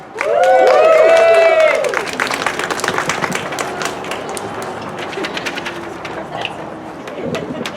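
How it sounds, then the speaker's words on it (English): Audience applause at a public meeting on a statewide pesticide notification system: a crowd claps steadily for several seconds right after a voice sounds at the start, then thins out. "Let's give a big round of applause for Michelle."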